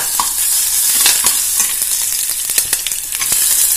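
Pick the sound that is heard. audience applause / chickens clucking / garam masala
garam masala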